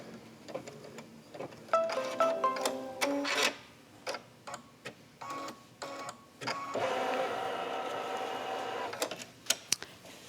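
A Brother embroidery machine stitches an in-the-hoop pillow with couching, tapping out rapid needle clicks in uneven bursts that settle into a steadier run, close and clear with no voices.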